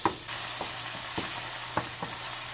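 Garlic cooking in a pan for a vegan lasagna: a steady sizzle with several sharp stirring clicks and taps, close and clear with no voices.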